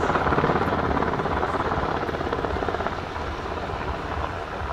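Slovak Air Force Sikorsky UH-60M Black Hawk helicopter at NATO Days in Ostrava 2023, its rotor and engine producing a loud, steady, close-by roar with a rapid chopping pulse throughout.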